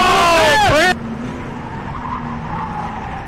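A race car in a Freedom 500 race brakes hard, and its tires squeal loudly for under a second in a wavering, falling skid. Only a low, steady engine drone remains afterwards.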